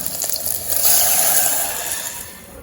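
Water poured from a vessel into a pan of Chettinad-style onion-and-tomato curry, a steady close gushing splash that rises briefly and then tapers off, with no voices.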